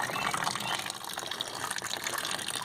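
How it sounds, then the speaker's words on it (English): Water from a pipe splashes into a tilted bucket and dribbles out into a garden wishing well and bird bath, a steady close-up gushing and trickling with no break. "I've got a pipe running into the tilted bucket so it pours water into it and then dribbles out"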